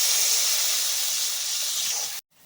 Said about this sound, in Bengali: এবার ফুটন্ত গরম জল ঝোলের জন্য দিয়ে দেব।